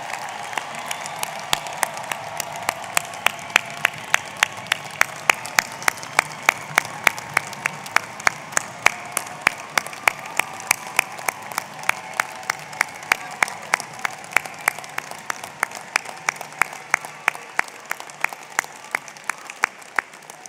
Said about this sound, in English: I think this is a moment where we should all give them one more time a round of applause